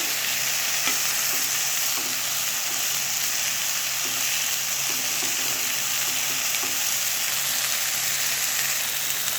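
Okra and chopped tomato stirred together in a frying pan, a continuous close sizzle with small scraping and clicking of the stirring spoon throughout, no talking.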